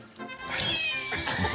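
A cat gives a drawn-out, wavering meow close by, rising and falling in pitch, then a second shorter meow, with no talk over it.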